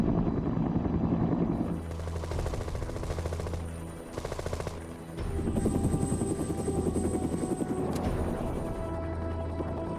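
A Huey helicopter with thick 44-foot all-metal rotor blades thumps loudly and continuously in a fast, steady chop, easing briefly in the middle before returning at full strength, with no voices.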